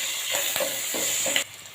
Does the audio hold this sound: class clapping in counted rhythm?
no